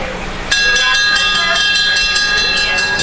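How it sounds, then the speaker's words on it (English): A train rolls past a zoo on the Great Plains, starting abruptly and holding steady and loud near the listener, with bright sustained horn-like tones and rhythmic rail clatter throughout. "And there's that infernal train again."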